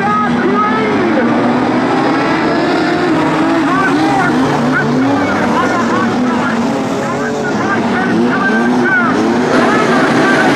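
Modified sedan race cars roar off the start of the Australian title A-Main at Charlton Raceway, a dense, loud, continuous pack of engines revving and droning, with a voice faintly heard beneath the noise.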